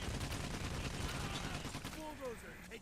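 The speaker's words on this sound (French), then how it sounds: "On vide un chargeur dessus." Sustained automatic gunfire as a full magazine is emptied in the PAYDAY: The Heist heist game, a dense rattling burst that fades slightly near the end, with a voice briefly over it.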